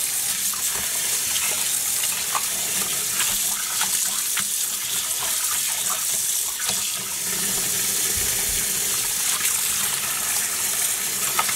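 A faucet runs steadily, gushing cold water over cotton yarn dyed with acid dyes in a sink, a continuous close rushing stream with small splashes as the yarn is rinsed.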